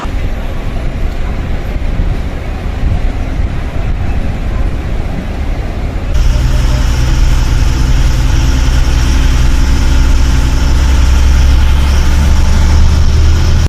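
Engine of a non-AC 2+1 sleeper bus on the Chennai to Pallapatti route: a quieter rumbling drone at first, then a sudden jump to a loud, steady low-pitched roar that holds to the end.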